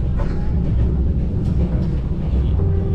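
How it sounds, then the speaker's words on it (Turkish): An old, rattling passenger train rolls through Vietnam with a continuous heavy rumble, clatter and metallic creaks, heard from inside the carriage and loud throughout. "Milattan önce tarihten kalma bir trenle gidiyoruz. Tangır tungur."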